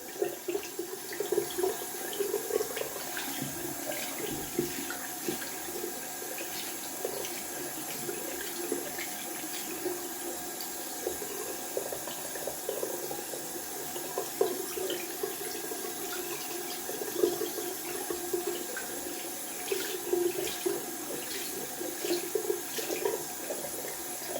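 A King C. Gillette safety razor being rinsed under a running bathroom tap, a continuous steady stream of water with small splashy bursts throughout, close and even in level with no talking.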